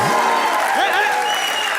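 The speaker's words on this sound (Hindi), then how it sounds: "तालियां।" Studio audience applause on a Hindi TV comedy show, loud and continuous clapping throughout, with voices and laughter-like sounds mixed faintly in the background.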